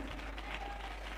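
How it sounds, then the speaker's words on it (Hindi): A church congregation claps during a Hindi sermon, a steady patter of applause at moderate-to-low level throughout, with a low hum beneath. "जोर से ताली"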